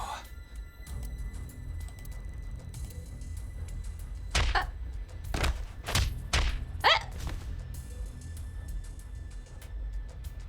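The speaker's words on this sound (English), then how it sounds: "Why did you punch him out of nowhere like that?" Punching and kicking hits in AI: The Somnium Files - nirvanA Initiative: a cluster of four or five sharp, close thuds and whacks in quick succession over a low game background.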